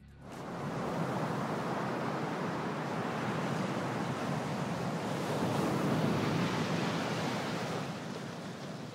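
Waves break on the Green Bay shore in Wisconsin as a steady, broad roar of surf mixed with wind, continuous and fairly loud throughout, with no voices.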